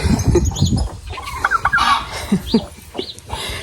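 Turkeys cluck and gobble in short, close bursts on a farm, with scattered calls continuing; any sheep are not clearly distinguishable among the bird sounds.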